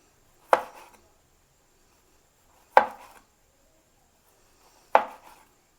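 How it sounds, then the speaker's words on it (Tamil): A knife slices through a banana onto a board in three separate, sharp cuts spaced about two seconds apart, close and clear against near silence. "இப்படி ஸ்லைஸில் கட் பண்ணணும்"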